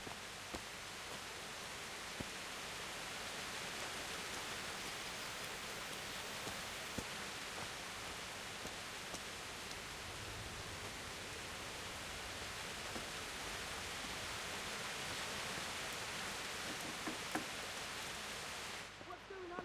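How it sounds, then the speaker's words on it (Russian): Steady rain pours down throughout a scene in the medieval role-playing game Kingdom Come: Deliverance, a dense, even hiss that stays level from start to finish with no voices over it. "Дождь фигачит."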